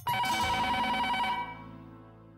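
Telephone rings on an outgoing call, one bright electronic ring burst lasting about a second and a half, then decaying to quiet.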